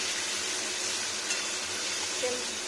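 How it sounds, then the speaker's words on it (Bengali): Cumin paste frying in a pan hisses in a steady, even sizzle, close and continuous, with faint bubbling beneath. "এটা হচ্ছে জিরে পেস্ট, দেখুন এটা জিরে পেস্ট। এখানে ফ্রাই হয়ে যাবে"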